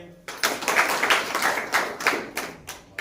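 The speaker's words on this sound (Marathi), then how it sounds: "टाळ्या जोरात वाजल्या पाहिजे" A crowd at a political party joining event claps in a burst of quick, irregular hand claps, fairly close and lively, for about three seconds.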